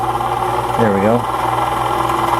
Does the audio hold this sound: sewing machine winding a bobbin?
yes